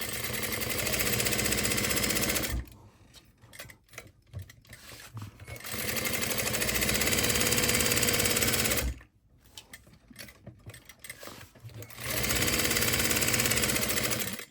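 A sewing machine stitches the lining of a crossbody bag in three loud, steady runs close by, with quiet pauses between them where the fabric is shifted.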